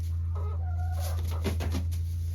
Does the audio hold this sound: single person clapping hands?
no